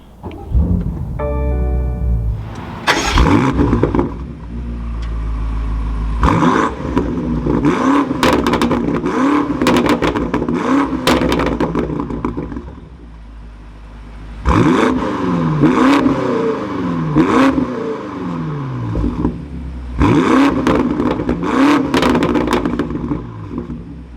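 A 2022 BMW M8 Competition Gran Coupe fires up with a starter whine and a loud, close engine roar, then gets repeated sharp exhaust revs that climb and fall back to a deep idle, alone with no talk.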